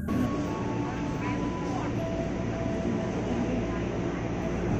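Interior of a KRL commuter train in Indonesia: a constant loud rolling rumble with faint whining tones drifting in pitch early on, steady throughout with no clear talk.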